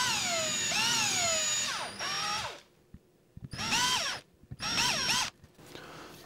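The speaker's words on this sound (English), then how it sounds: "I'm going to go ahead and drill these out so they're the right size" A power drill whines in several bursts while drilling holes in a plaster slip-casting mold, revving up and winding down between short pauses, close and loud with no talking.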